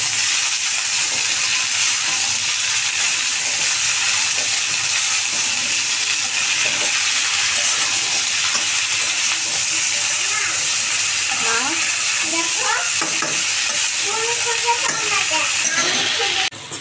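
Papaya and yardlong beans fry together in a pan, giving a steady, fairly loud broadband sizzle throughout with occasional stirring scrapes near the end.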